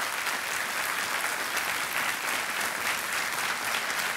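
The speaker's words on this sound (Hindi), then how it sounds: "ताली बज जाने चाहिए इनके लिए" Studio audience on the KBC quiz show applauding a contestant, a thick, even roar of clapping that holds steady and loud from start to finish.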